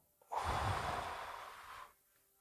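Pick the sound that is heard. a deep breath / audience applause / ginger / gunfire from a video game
a deep breath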